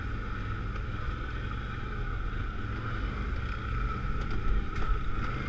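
A Can-Am Outlander 1000 ATV coasts downhill in two-wheel drive, engine braking with no throttle or brake. A steady low mechanical drone under wind noise swells slightly toward the end, with faint clicks and no talking.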